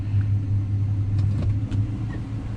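A car engine idling steadily after being put in gear, running around 600 rpm with a low, continuous rumble that stays close and fairly loud throughout, with no talking.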